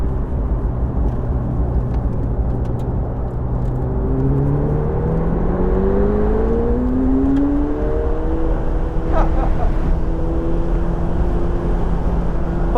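A Senna hypercar at speed on Sonoma Raceway, its engine note climbing steadily through the gears in a continuous loud, close whir with rising harmonic sweeps.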